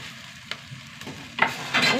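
Okra and tomato sautéing in a pan, a soft continuous sizzle punctuated by a few spatula scrapes, swelling into a louder crackle toward the end.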